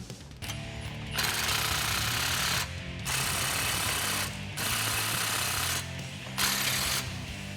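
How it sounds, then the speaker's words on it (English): A ratchet driving a 13mm socket on a swivel extension while working on the exhaust of a 2018-2019 Ford F-150 5.0L. It gives four loud, buzzing mechanical bursts of about one to one and a half seconds each, separated by short pauses. "this is that 13mm socket that I have on the end of a swivel"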